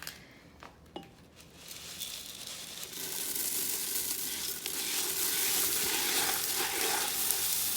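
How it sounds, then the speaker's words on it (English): Rice Krispies cereal pours into a pot of warm melted mixture, starting with a few light ticks, then swelling into a steady, crackling, crinkly rustle that grows louder and fills the last seconds. "And now we get to put in our Rice Krispies that we already counted out."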